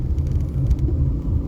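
A car drives along the road, a steady low rumble and road noise from inside or close by, with a faint ticking pattern above it and no speech.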